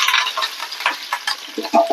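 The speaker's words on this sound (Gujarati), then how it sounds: "તેલ ગરમ થાય એટલે આપણે તેમાં રાઈ ઉમેરીશું" Mustard seeds crackle and sizzle in hot oil for a tempering, close up, with rapid irregular pops and spatters growing sharper toward the end.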